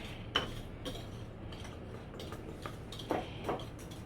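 Spoon clinking and scraping against a bowl while butterscotch cookie batter is stirred with corn flour, a few soft clinks spread over a quiet, even background.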